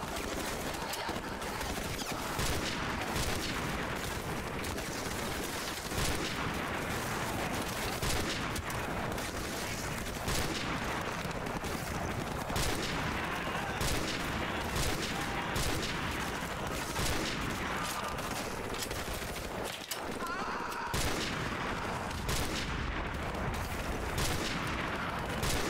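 Dense, sustained gunfire in the Call of Duty: Modern Warfare Remastered video game, loud overlapping shots and bursts filling the whole stretch without a break.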